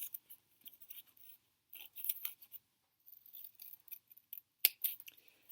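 Scissors trimming a paper shape for a collage make a string of crisp, close snips in irregular clusters with brief silent gaps, and no voices.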